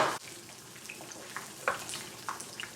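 Tortillas frying in a little oil in a home kitchen, giving a faint, sparse crackle and sizzle with scattered soft pops and no talking.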